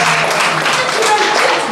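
A church congregation at a Sunday service in Paris applauds, loud dense clapping filling a short burst with voices mixed in.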